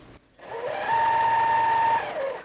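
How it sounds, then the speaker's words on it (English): A Juki sewing machine stitches fabric at a short stitch length, a steady rising whir that holds for over a second before winding down, close and clear with no talk. "I'm at my Juki now, and I have my stitch length set to 2 for here"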